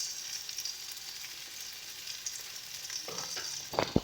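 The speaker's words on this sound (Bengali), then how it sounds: "এবারে ভালো করে মশলাটা আমরা কষিয়ে দেব।" Ground spice masala with turmeric, coriander and chili powder sautés quietly in a pan for a raw banana curry, a faint steady sizzle that ends in a few louder scrapes of a spatula.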